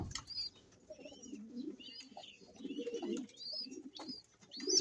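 A pigeon gives low, soft cooing phrases near the microphone, with higher chirps from other birds mixed in and a brief flutter of wings, fairly quiet and intermittent.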